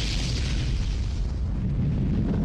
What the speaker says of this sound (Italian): L'edificio è devastato da un'esplosione.